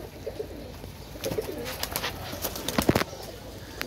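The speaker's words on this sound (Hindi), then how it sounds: "ये देखें हरे कबूतर, चीने कबूतर है" Soft pigeon coos repeat against a rustling, flapping background, with a burst of wingbeats and scuffling near the end.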